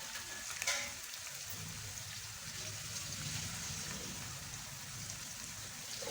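Sliced green chillies sizzle steadily in hot oil for a tadka while cooking mustard greens, a close, even crackling hiss with a small clatter early on.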